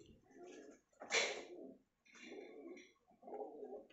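A high-flying breed pigeon coos in soft, low, throaty bursts, four short calls in a row close by with brief gaps between.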